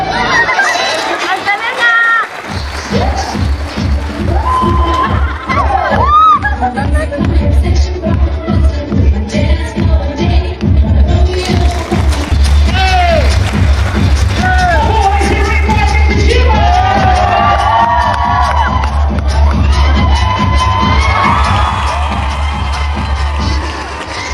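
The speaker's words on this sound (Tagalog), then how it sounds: "Marami maririnig niyo sa video namin ang hiyawan nilang magpipinsan." Cousins at a wedding cheer, whoop and shout together throughout, a loud, dense crowd roar with excited voices and chatter layered over a steady low thumping beat.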